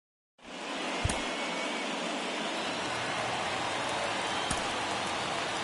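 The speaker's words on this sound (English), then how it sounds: "the field's not going to be able to hold off if the rain gets any worse than this" Steady rain pours down during a World Series baseball game, a dense continuous hiss that holds at even loudness throughout, with a couple of brief sharp knocks near the start and later.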